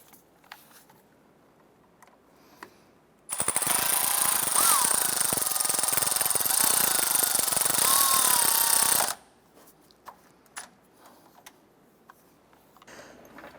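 A power tool runs steadily for about six seconds, tightening the ground wire bolt on a 2008-2012 Honda Accord, a loud continuous buzzing rattle standing alone between quiet stretches with faint clicks.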